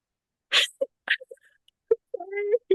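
A short meow rises near the end after a few scattered soft sounds and a quick sharp sniff-like burst, all close and quiet.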